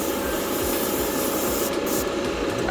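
Steady, close airbrush-style spray hiss while paint goes onto a Bandai Gundam RX-78-2 1/144 scale model kit, a continuous rushing noise with faint ticking underneath.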